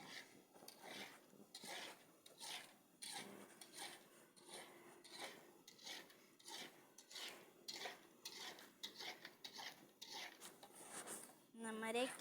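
Food is stirred in a cooking pan with a utensil, giving repeated soft scraping and clinking strokes at close range, with a quiet voice talking now and then.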